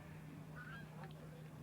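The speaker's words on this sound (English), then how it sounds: "You don't think those Canada geese coming over are going to distract him?" Canada geese fly over an archery competition, giving a few faint, far-off honks over a low steady hum.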